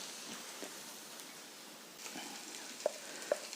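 Onions fry in a pan and are stirred, giving a soft, steady sizzle close by, broken by a few faint scrapes and two sharp little clicks near the end.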